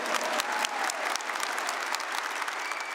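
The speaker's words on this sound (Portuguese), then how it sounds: "Uma salva de palmas a elas. Deve ser mais forte, mais forte." A church congregation gives the mothers a round of applause, with dense, sustained clapping from many hands filling the space at an even level throughout.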